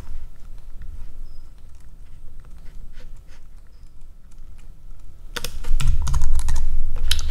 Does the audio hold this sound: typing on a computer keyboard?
yes